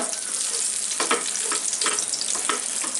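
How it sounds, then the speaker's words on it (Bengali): Cashew nuts frying in oil for a chicken biryani topping, a dense, bright, continuous sizzle with a few soft stirring knocks, close up and without speech. "কতগুলো কাজু বাদাম আমি একটু ভেজে নিব এতে যেটা টপিং হিসাবে ব্যবহার করব"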